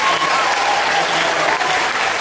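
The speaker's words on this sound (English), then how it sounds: "Clap for yourselves." An audience at a workshop-style session claps together in a dense, even burst of applause, loud and sustained throughout with no pauses.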